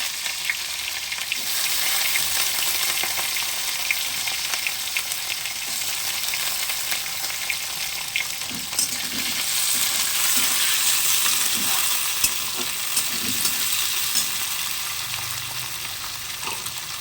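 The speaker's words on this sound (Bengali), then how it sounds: "তেল আগে দিয়ে দিয়েছিলাম, তার মধ্যে এই ক্যাপসিকামটা ভেজে নেব।" Capsicum fries in hot oil with a continuous close sizzle and crackle, with occasional stirring taps against the pan and no talking.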